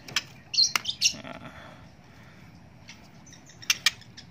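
A young white-rumped shama (murai batu) sings a rough, harsh song track of sharp chirps and squawky bursts, loud and close, with quiet gaps between phrases.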